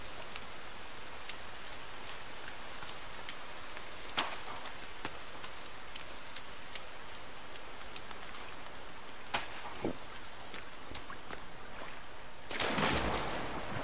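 Steady rain in the survival video game The Forest, a soft continuous patter with scattered sharper drop ticks and a brief louder gust of splashing near the end; no talking.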